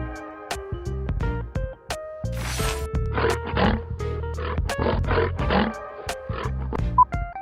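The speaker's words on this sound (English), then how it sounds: "Lion." A lion roars in deep, growling bursts, several in a row with short pauses between them, loud and close, heard alone with no talking.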